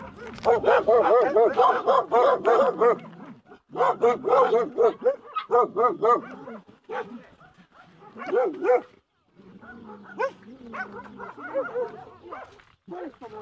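Several dogs bark and yelp in repeated bursts, close and loud, in cramped makeshift kennels at a fire-damaged site in Belpasso, Sicily, with a few short pauses between volleys.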